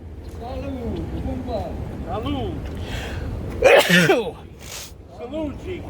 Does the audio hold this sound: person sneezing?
yes